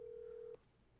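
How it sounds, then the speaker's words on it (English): A single steady telephone tone is heard as a call is placed, holding for about half a second and then cutting off abruptly to near silence. "I'm going to make a quick phone call to a colleague of mine"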